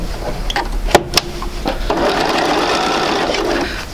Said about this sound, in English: I'm going to grab my white C and go ahead and sew these